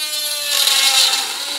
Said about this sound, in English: the locator recess burr is held vertically